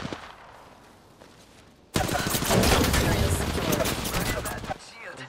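Gunfire in the video game Apex Legends, a quiet stretch with faint shots, then a sudden loud burst of rapid automatic fire that rattles on for about three seconds before dropping back, with a voice mixed in.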